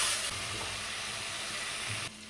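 Chopped tomatoes drop into onions frying in a pan, giving a steady close sizzle and hiss with faint stirring, then the sizzle dips slightly near the end.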